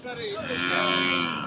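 Cattle low and moo repeatedly at a busy Kundadam cattle market where Kangeyam-breed animals are traded, with a long sustained call over steady background market noise.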